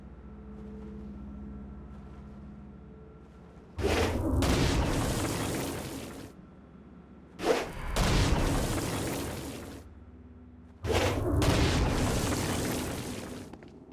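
Blast explosions in the video game Saints Row: Gat out of Hell, three loud, sudden booms a few seconds apart, each rolling out into a long rumbling tail over a low background hum.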